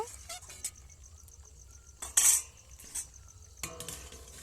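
A utensil stirs cauliflower stalks with fried, crushed bits in a pot of a little water, soft scrapes and clinks against the metal with one sharper clatter partway through, close and quiet.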